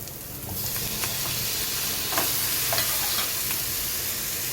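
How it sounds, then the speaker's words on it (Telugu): Onion and tomato pieces fry in hot oil for a soya chunk curry, giving a loud, steady sizzle and hiss with faint stirring clicks throughout. "ఉల్లిపాయ ముక్కలు కొద్దిగా ఫ్రై అయిన తర్వాత ఇందులో టమాటో ముక్కలు వేసుకోవాలి"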